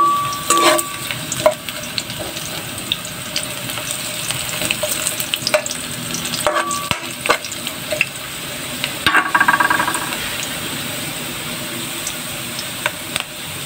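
Ginger and onion sauté in an oil-slicked pan for a mussel dish with malunggay, a steady close sizzle and crackle broken by occasional sharp spatula scrapes and taps against the pan.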